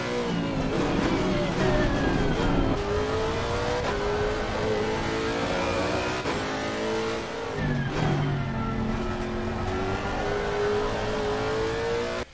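A race car lapping in Assetto Corsa Competizione, its engine loud and close as it revs up through the gears with rising pitch sweeps, briefly drops back around shifts and braking, then climbs again in continuous racing play.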